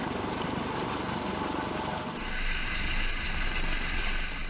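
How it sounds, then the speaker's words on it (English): A twin-engined MH-65 Dolphin military helicopter holds a steady hover, its loud continuous rotor and engine roar filling the scene, with a noticeable surge in low rumble partway through as wind buffets the microphone. "the system will bring the helicopter to a stable hover 50 feet above a selected object"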